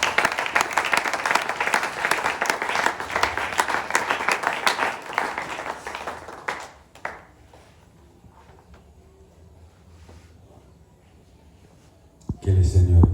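Church congregation bursting into loud, sustained applause and cheering, filling the first half before fading into a quieter room with scattered sounds, then another loud burst at the end.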